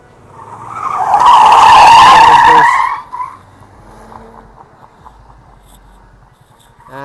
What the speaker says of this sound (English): And that was an absolutely brilliant drifting experience.